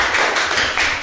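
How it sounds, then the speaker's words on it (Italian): Audience applause for artist Alfredo Salvi at a book presentation evening, a dense steady patter of many hands clapping close by, holding at an even level for about a second. "Facciamo anche per lui un applauso."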